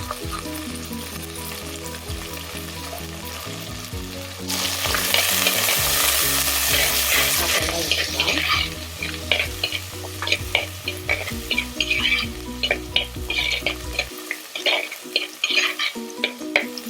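Chicken frying in a pan with whole shallots and curry leaves, a loud burst of sizzling as ingredients go in, then close, busy stirring scrapes and crackles, with music audible in the first part.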